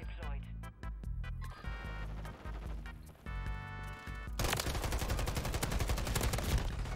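Rapid gunfire from a Modern Warfare 3 or Battlefield 2042 match: close, sharp shots in quick bursts, then a dense sustained volley of heavy fire filling the final seconds, with a voice speaking over it.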